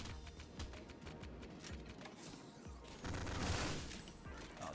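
A turret fires in the video game Ion Fury, a rapid stream of gunshots with a dense burst of crackling impacts partway through, loud and continuous.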